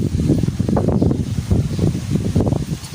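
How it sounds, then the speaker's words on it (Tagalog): Strong wind buffets outdoors in loud, continuous gusts that rise and fall, with heavy rumbling noise across the whole stretch and no voices. "Lakas ng hangin."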